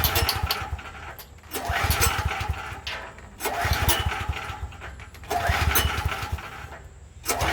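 A Troy-Bilt XP series 7500 watt generator with a Briggs and Stratton engine and a dirty carburetor churns loudly and nearby in three or four repeated surges, each lasting over a second and separated by short lulls.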